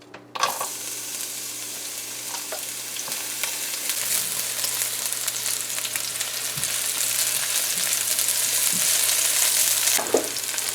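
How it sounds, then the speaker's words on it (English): Onions dropped into hot oil start a loud, close, steady sizzle that swells and crackles continuously, with a few faint knocks of utensils and no talking. "So our oil is hot, my friends, and we're going to start adding our onions there first to begin with."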